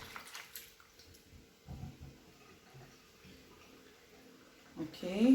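Defrosted snails are rinsed under running water. Quiet handling noises and small drips lead into a louder burst of water flowing near the end.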